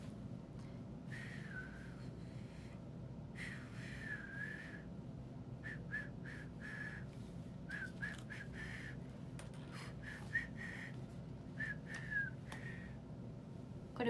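Someone whistles a light melody in short phrases over a steady background hum, faint and somewhat distant.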